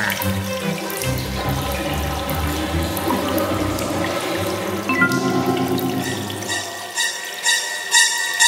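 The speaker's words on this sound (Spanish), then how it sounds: "No hay nada como una ducha relajante." A shower runs in a Pocoyo cartoon, a steady broadband rush of water with tap-like splashing that continues throughout under a cartoon soundtrack, with no voices.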